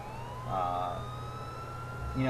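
A police car siren wails in a multiplayer driving video game, a faint, rising and falling electronic tone sweeping across the clip with a low engine drone beneath.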